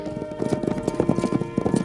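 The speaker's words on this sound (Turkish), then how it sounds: "Sürü içgüdüsüyle hareket eden atlar ne olursa olsun diğerlerine yetişmeye çalışacaktır." A herd of horses gallops close by, a dense, fast clatter of overlapping hoofbeats in quick uneven rhythm, loud and continuous with no voices.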